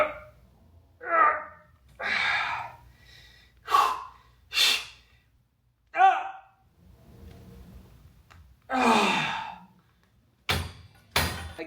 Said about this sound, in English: Every time I expand, I want to breathe in. So here I go. I breathe out.